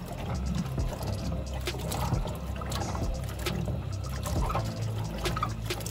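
Pine cones washed by hand in hot water, with steady sloshing, splashing and trickling close by throughout.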